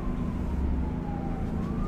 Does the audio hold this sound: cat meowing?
no